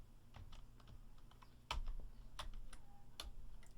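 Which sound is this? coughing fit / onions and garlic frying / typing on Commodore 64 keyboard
typing on Commodore 64 keyboard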